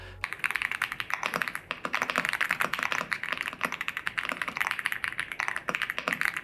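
Rapid, clattery typing on an Aula F87 mechanical keyboard, close up, with crisp key clicks in an uneven, continuous stream.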